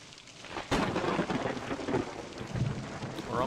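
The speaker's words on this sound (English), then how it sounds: "This thunder is dropping morale" Thunder and heavy rain in a Puppet Combo horror video game: a sharp crack of thunder rolls into a sustained rumble over a steady wash of rainfall.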